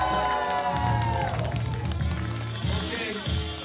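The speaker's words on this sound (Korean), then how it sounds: "박수 부탁드립니다!" Applause and cheering from a crowd at a b-boy breakdance battle event fill the space loudly and steadily, with music and a voice mixed in underneath.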